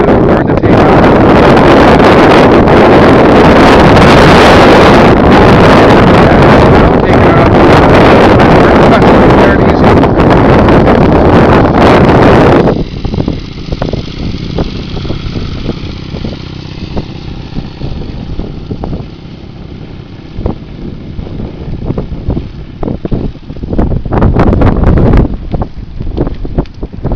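A motorcycle ridden by a learner rider, first buffeted by loud roaring wind noise over the engine for about half the time, then dropping to a lower idling engine rumble with scattered clicks and rising revs.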